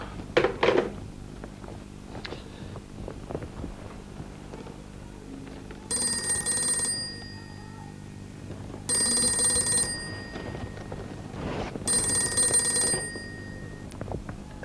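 A telephone rings in three spaced bursts, each roughly a second long with a bright electronic tone, in a quiet indoor room with a few soft bumps before the rings.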